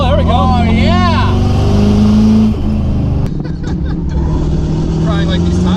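Rolls Royce engine roaring loud and close under hard acceleration, pitch climbing then dropping at a shift, with sweeping squeal-like tones over the engine and voices talking over it.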